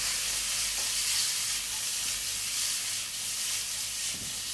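Cumin-seasoned food frying in a pan gives a steady, close sizzle and hiss that holds evenly throughout, with a small clatter near the end.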